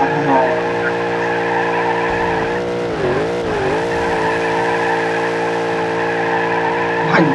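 A car drifting in BeamNG.drive, with a steady engine drone and sustained tire squeal throughout and a brief pitch dip midway, loud and close with no talk.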